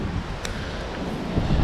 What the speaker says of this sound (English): oh yeah, there's a good gust